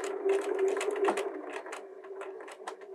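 A Bernina 325/335 sewing machine runs in reverse, stitching the bottom bar tack of a buttonhole with a steady, close, busy whirring and rapid needle clatter throughout, no voices.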